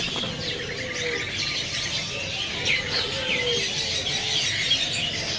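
Soft, repeated zebra dove calls mix with chirping birds against a busy background murmur at a bird market, none of them sounding very close.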